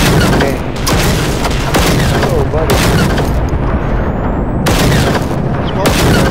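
Gunfire and explosions in the Generation Zero video game: loud, dense bursts of shots and booms in rapid succession, with brief gaps, filling the whole stretch.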